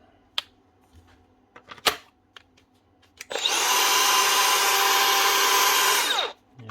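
A repaired power tool motor spins up and runs for about three seconds, a loud, steady whirring whine that then cuts off, following a few scattered clicks and handling knocks.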